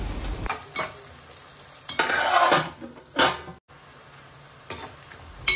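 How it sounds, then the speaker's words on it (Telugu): Chopped green chillies fry in a pan for a Hyderabadi chicken biryani, a steady close sizzle broken by several loud bursts of stirring and scraping, with no talking. "కట్ చేసి పెట్టుకున్న పచ్చిమిర్చి కూడా వేసి రెండింటిని ఫ్రై చేస్తున్నాను."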